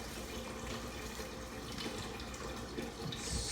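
Water runs from a kitchen tap into a cooking pot being filled for stuffed pasta shells, a steady close rushing stream with no voices.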